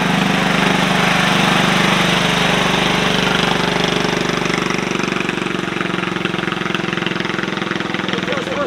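A modified muscle car engine at a car show rumbles loudly as it drives past, a steady throaty idle-like drone that stays close and dominant throughout.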